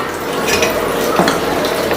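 Stirring chicken curry with water in a pot, a continuous wet swishing with a faint scrape of a utensil, close and steady, with a low background hum.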